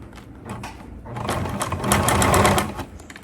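Sewing machine stitching clear crystal plastic for a transparent drawstring backpack, using a long stitch setting, with a close, rising mechanical whir of needle strokes as a voice speaks over it.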